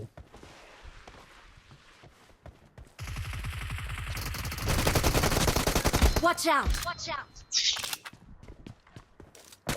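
Rapid bursts of automatic gunfire in a team deathmatch video game, rattling loud volleys interspersed with single shots and brief quieter gaps.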